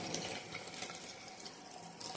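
Water runs steadily from the outlet of a Borosil SDU150 single water distillation unit, a soft continuous trickle and splash that stays fairly quiet and even throughout, with no voices.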